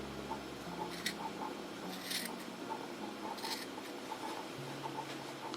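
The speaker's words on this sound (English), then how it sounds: "then I just go around with the scissors." Scissors snip crocheted denim on a bedspread in quiet, scattered crisp cuts, faint and close with soft rustling in between.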